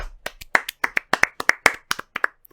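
Around a dozen quick hand claps from a small group, uneven in rhythm, close and crisp, trailing off at the end.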